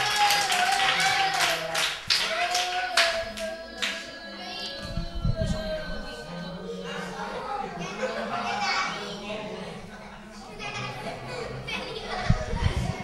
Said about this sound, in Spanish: un fuerte aplauso para ese campeón